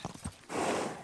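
Horse hooves in a video game give a few quick, close clip-clops, followed by a broad rush of noise.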